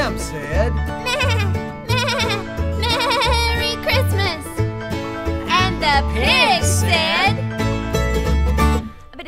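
A lamb bleats in a sung Christmas novelty track about a cactus Christmas tree, with wavering bleat-like notes over a loud musical backing.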